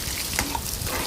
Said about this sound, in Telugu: ముందుగా ప్యాన్ పెట్టుకొని అందులో ఆయిల్ వేసుకొని పోపు వేసుకొని అందులో వెల్లుల్లి వేసుకొని ఆనియన్స్ వేసుకొని బాగా ఫ్రై చేసుకోవాలి